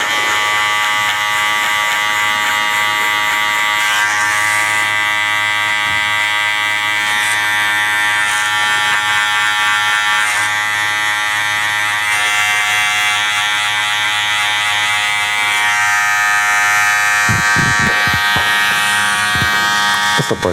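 Electric hair clipper fitted with a 1.5 guard cutting hair in a V-shaped fade, a close, continuous high-pitched buzz that holds steady for the whole stretch with slight shifts as it moves through hair.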